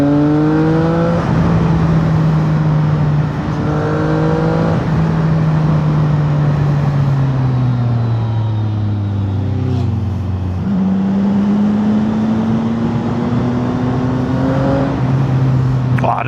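CF Moto 675NK motorcycle engine on the road, a loud, close, continuous drone that rises in pitch through the gears, dips at shifts and climbs again, with no talking.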